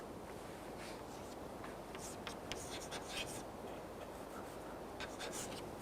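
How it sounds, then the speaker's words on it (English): Chalk or pen scratching steadily across a board or tablet during a programming lecture, a soft continuous scraping with faint bursts of strokes, close and alone without speech. "let me write it here"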